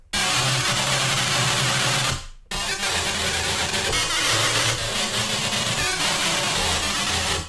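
A "broken radio" synth patch in Annaliis 1.3.0 gives a loud, dense crackling buzz with wavering tones, cutting out abruptly for a split second before resuming just as harsh and continuous.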